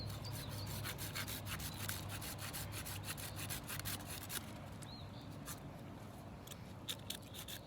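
Cutting through the end of a wooden bow stave with minimal survival tools, a steady rasping saw-like stroking that runs continuously and close, roughly even in rhythm, softening slightly partway through with no voices.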